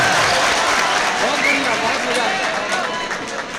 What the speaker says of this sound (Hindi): थोड़ा ताली बजा करके बताइए,